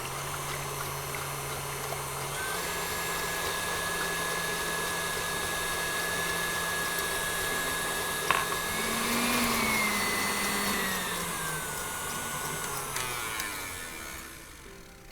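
An electric mixer beats egg whites with sugar and cream of tartar for a Charlotte Russe, a steady whirring drone running throughout with slight shifts in pitch as the beaters move, no talking over it.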